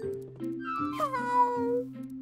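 A cartoon cat meows several times in a row, each call drawn out and rising then falling, one longer wavering cry in the middle, close and clear with no talking.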